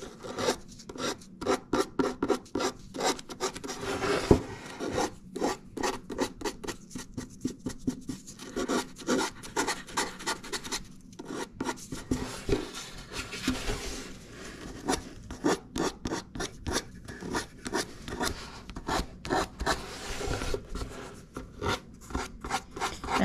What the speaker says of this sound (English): Now with some sandpaper, and also go, this is too aggressive.